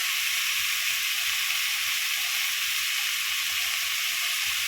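Kulekhara greens with chili powder and turmeric being stirred in a hot pan, a steady bright sizzle and hiss holding evenly throughout, close and fairly loud, with no talking.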